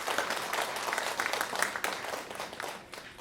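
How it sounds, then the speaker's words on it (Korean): Congregation applause at a Korean Sunday church service: continuous, fairly close clapping from many people, holding steady before easing slightly at the end. "하나님께 영광의 박수 올려드리기 원합니다."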